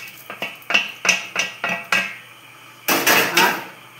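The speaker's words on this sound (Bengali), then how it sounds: "হ্যাঁ, এবার একটু মিক্স করে দিই" A spoon stirs pulao rice in a metal pot, making a rhythmic series of about six distinct scraping clanks followed by a longer burst of several quick, louder scrapes, close and clear with no talk.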